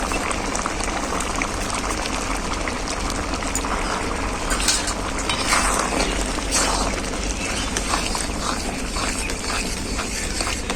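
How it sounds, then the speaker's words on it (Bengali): Dal made from three kinds of lentils, cooked with fish head, bubbles at a vigorous boil in a pot. The result is a dense, continuous simmering burble, close and steady throughout, with no speech. "ডালটা খুব ভালোভাবে ফুটে গেছে"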